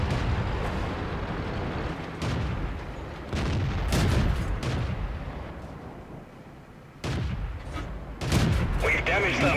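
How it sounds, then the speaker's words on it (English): World of Tanks battle with tank and artillery shells firing, heavy booms and blasts landing at irregular intervals within a loud, rumbling soundscape, with someone speaking over it. "I just managed to dodge that artillery shell as well"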